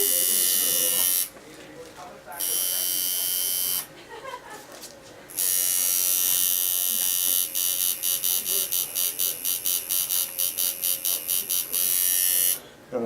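A tattoo machine shading black and gray work buzzes loudly and close. A steady drone breaks off in short gaps, then turns into a rapid, evenly pulsing stutter as the needle is worked in single brushing strokes.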